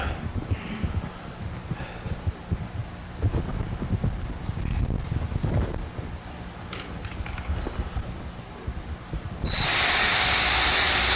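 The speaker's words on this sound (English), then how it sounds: "then just drill it by hand" Quiet rustling and handling noises, then a power drill drilling wood bursts in close and loud for the last second or two, a steady high whine.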